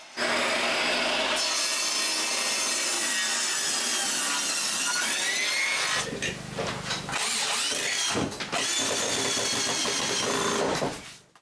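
A wooden brace that holds gas lighting straight is sawn through on both sides during ceiling work at a cottage: loud, close, continuous hand-saw strokes with rasping wood noise, a brief pause midway, then more cutting.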